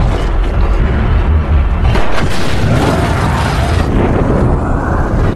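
A gas explosion from the 2013 film The Colony sets off a loud, continuous roaring rumble with heavy low-end boom that lasts about five seconds without letting up.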